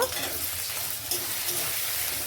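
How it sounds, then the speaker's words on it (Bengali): Chili, onion and cumin pastes frying in hot oil as they are stirred in a pan: a loud, continuous, dense sizzle with soft stirring underneath, close up and with no talking. "এখন সমস্ত মশলাগুলোকে নেড়ে ছেড়ে কষিয়ে নেবো"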